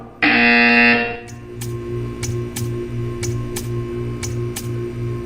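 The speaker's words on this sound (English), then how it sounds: "You will hear a buzzer" A harsh, loud buzzer in the Portal 2 video game blares for about a second, then a steady mechanical ticking follows at an even pace under a low hum.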